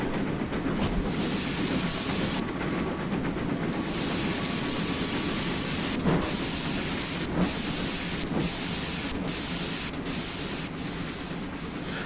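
GWR Saint steam locomotive in Train Simulator on the Border Lines route, a loud continuous rumble of a moving train with hissing noise and regular rail clicks.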